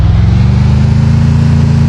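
A car engine in the video game Free Fire on the Bermuda map drones steadily at a low, even pitch, loud and close throughout with no talking over it.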